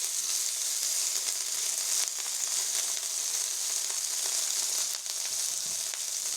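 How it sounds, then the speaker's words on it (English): Rice hits a hot pan for egg fried rice, giving a steady, close, hissing sizzle that holds evenly throughout with faint scraping, no voices. "And then I'm gonna throw the rice in."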